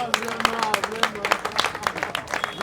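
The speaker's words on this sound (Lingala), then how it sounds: "Acclamez pour Matuza." A crowd claps for Matuza in bursts of dense applause with sharp, rapid hand claps, under and around someone talking loudly nearby.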